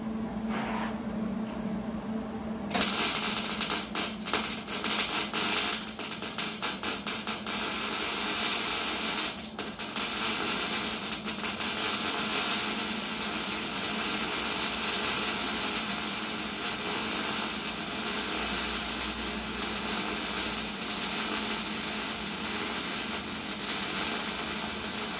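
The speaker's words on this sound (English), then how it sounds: "We'll try to come across there with some kind of decent weld." Welding on a 1953 International truck: after a quiet start, a loud continuous crackling, buzzing arc runs steadily for over twenty seconds with small fluctuations, close to the listener.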